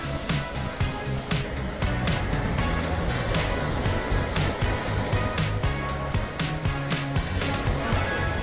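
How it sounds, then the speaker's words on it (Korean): Waves crash on the shore along a drive-side walking path in Seogwipo, Jeju, with steady, loud surf broken by repeated rushing swells and occasional sharper splashes, and faint voices in the background. "파도 친다."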